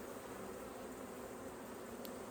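Honeybees hum steadily at an open beehive during a hive inspection with apivar mite-treatment strips, a low, continuous close buzz with no break, alone without talk.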